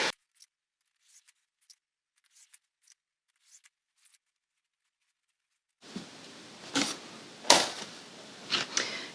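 Scissors snipping through doubled-over fabric strips for an ombre quilt: a run of sharp, sparse clicks at first, then a louder, continuous crunching slice of blades through the folded cloth, close and with no talk.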